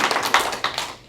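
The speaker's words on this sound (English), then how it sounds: "Everyone give Rob a big round of applause." Hand clapping from an audience at a business talk on talent strategy, a short burst of claps lasting about a second and fading out at the end.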